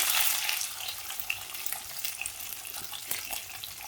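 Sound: garlic frying in oil

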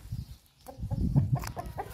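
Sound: chicken clucking

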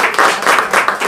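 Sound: applause

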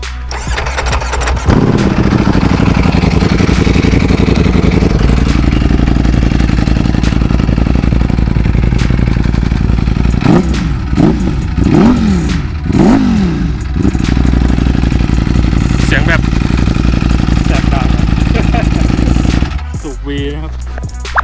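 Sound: Ducati V4 motorcycle engine revving

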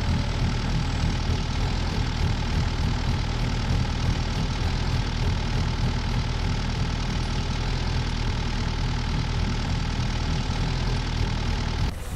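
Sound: Sumitomo SH460 excavator engine running, from Farming Simulator 19 video game

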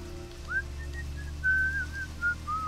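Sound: whistling in the video game Deadly Premonition

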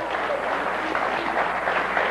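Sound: studio audience applause

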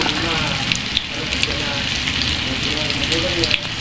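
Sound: tofu frying in oil

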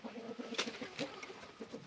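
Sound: Zonguldak chicken

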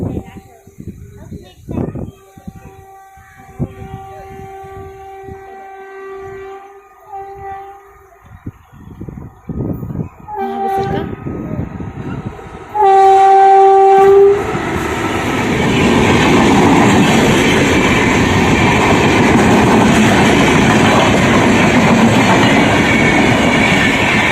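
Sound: train passing at a closed railway crossing

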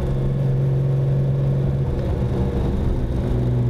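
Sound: Lamborghini Countach engine running in second gear

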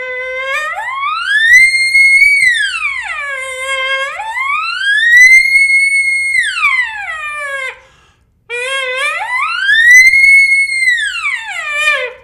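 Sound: elk call imitating siren, low-high notes

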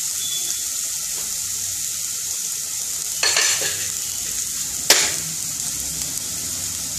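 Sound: vegetables frying and being stirred for oats

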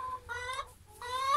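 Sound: hens clucking in a coop

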